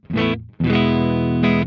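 Electric guitar played through a Valeton GP-5 using its Matchless 30 Snaptone amp model, giving a driven, harmonically rich tone: a short strummed chord, a brief gap, then a longer sustained chord that rings out loud and steady with no talk.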